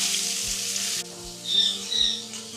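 Onions hit hot oil with cumin seeds and deep-fried potatoes for a Bengali potato curry, a steady close sizzle with a few soft stirring scrapes and no voices.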